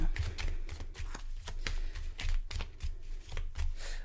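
Tarot cards are shuffled and handled up close, a quick run of soft riffling slaps and papery flicks with a few brief pauses, fairly quiet and with no one speaking.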